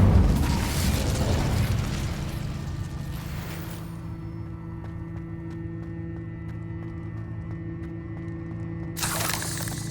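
A booming fire-spell blast from Hogwarts Legacy erupts loudly at the start, then falls away to a steady low hum and a crackling fiery rumble that swells again near the end.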